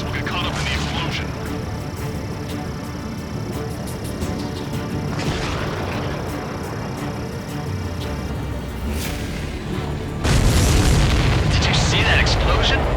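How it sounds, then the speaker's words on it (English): A supply ship blows up in the Ace Combat 7 video game, a sustained roaring boom with a fresh loud burst near the end, layered over dense jet-engine and combat noise. "Explosion?"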